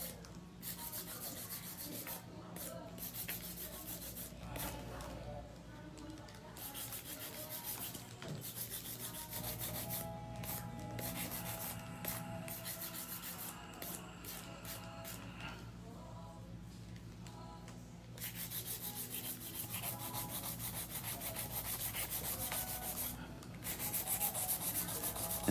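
Steady, close scratchy rubbing of a file against acrylic nails, continuous with brief pauses, no talking.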